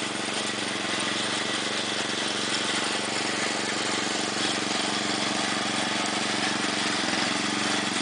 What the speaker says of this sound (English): The noisy air compressor.